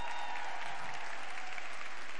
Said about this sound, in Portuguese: receba com uma salva de palmas